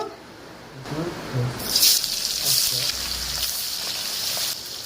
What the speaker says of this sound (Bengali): মাছগুলোকে উল্টে পাল্টে সব মাছ এইরকমই ভেজে নেব